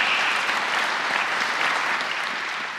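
An arena crowd bursting into sustained applause at a women's recurve archery final, a dense roar of clapping that holds strong and tapers slightly toward the end.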